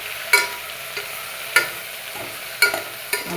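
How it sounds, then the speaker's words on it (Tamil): Onions and tomatoes stirred and sautéing in a pan with light salt for Tamil paruppu sadam, giving a soft ongoing sizzle broken by sharp scraping stirs about every second, close by with no talk. "வெங்காயம் தக்காளி வந்து நல்லா வதங்கணும்"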